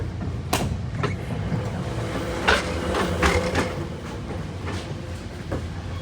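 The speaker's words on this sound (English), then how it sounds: "So this 3:38 p.m. train from Broad Run" Inside a moving commuter train on the 3:38 p.m. run from Broad Run toward DC Union Station, a steady low rumble of wheels on track with a few sharp clunks and rattles scattered through it.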